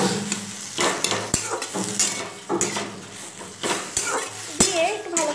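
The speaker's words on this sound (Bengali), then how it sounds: "দিয়ে একটু ভালো করে নাড়াচাড়া করে দিলাম।" A spoon stirs tomato tamarind chutney in a pan with repeated scraping and clinking against the metal and a soft sizzle underneath, set in an ongoing rhythm of strokes with no talking.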